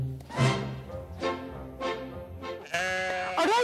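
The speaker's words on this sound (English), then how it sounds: "I'm feeding sheep." Sheep on a Queensland farm bleat loudly and close by, several wavering calls one after another, with a harsher, noisier bleat near the end.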